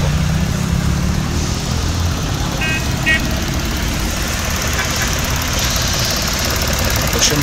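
Steady idle of a 2016 Mitsubishi Attrage with a three-cylinder, 12-valve, 1200 cc engine: a close, continuous low rumble with a faint rhythmic knock that holds level throughout.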